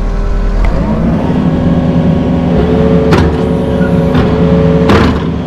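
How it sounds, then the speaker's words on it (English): Yanmar VO55 mini excavator engine revving, a steady diesel drone with rising pitched tones and several sharp mechanical clunks spaced through the recording, heard close with no talk. "check it out when I rev it up."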